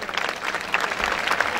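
An audience at an outdoor chili-pepper eating championship in Diamante, Italy, applauds, a brief burst of steady, close clapping from many hands with a few voices mixed in.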